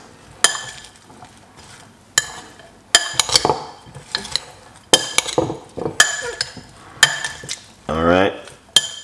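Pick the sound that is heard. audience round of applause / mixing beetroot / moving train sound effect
mixing beetroot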